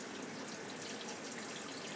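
Water pours steadily from a tap into a film developing tank, a continuous even hiss and splash with no break, close and fairly loud, with no talk over it.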